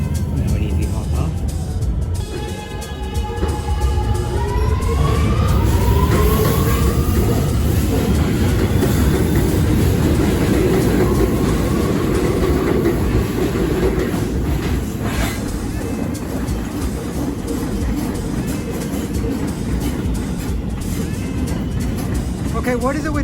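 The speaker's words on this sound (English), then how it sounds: "what is it with getting these trains and not getting ones that have open gangways on them?" A subway train rumbles loudly as it rides, a dense steady roar with rattling and clatter, brief rising whine early on, and a high electrical tone through the middle, with a voice speaking in the background.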